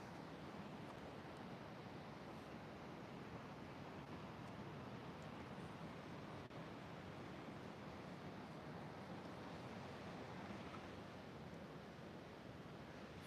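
Steady ocean surf washes along an oceanfront shore in a continuous broadband roar with wind noise, unbroken and even throughout, no voices present.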